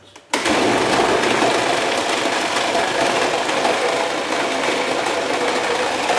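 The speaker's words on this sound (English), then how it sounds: "turn it on full blast and turn the whole machine, lifting it with both hands" A meat mixing machine runs at full speed with ground chuck inside, a steady loud whirring drone that kicks in abruptly after a brief quiet moment and holds continuously, with faint rattling as the machine is lifted and turned.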